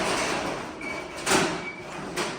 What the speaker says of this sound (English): that's the door opening.